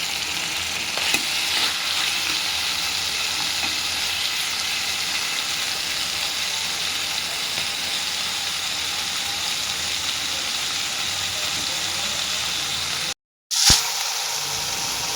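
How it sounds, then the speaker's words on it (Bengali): Crab fries in hot oil, sizzling loudly and steadily up close for the whole stretch, broken by a brief dropout and a sharp clatter near the end. "এখন কষবে কাঁকড়াটা, যতক্ষণ না তেল না ছাড়বে ততক্ষণ কষাতে থাকবে।"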